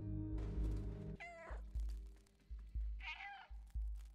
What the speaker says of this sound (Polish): Miauczenie pokazuje nam, w którą stronę powinniśmy iść